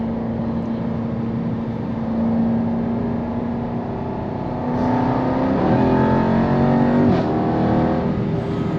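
Jaguar XE SV Project 8 sedan engine held in a low gear, a loud steady growl that swells twice as it accelerates, with rising harmonics and a brief gear change near the end.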